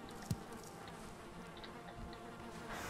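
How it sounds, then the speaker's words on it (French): Bees buzz in the video game Valheim, a faint continuous insect drone hovering low in the background with a brief soft tap near the start and no talking. "moi, mes abeilles, elles sont heureuses"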